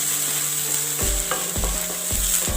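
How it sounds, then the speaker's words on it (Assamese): Ginger, garlic and green chili fry in a pan with onions, a steady close sizzle punctuated by about four firm spatula scrapes across the pan's surface. "এইখিনি আদা নহৰু কেঁচা গোন্ধটো যোৱালৈকে ভাজিলে হ'ব"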